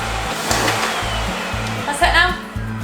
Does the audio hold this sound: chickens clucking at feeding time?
no